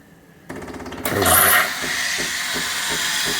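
A Melitta Latticia OT 600 series coffee machine steams and froths milk, a sudden loud hissing burst that settles into a steady mechanical whir with faint rhythmic pulsing, close by.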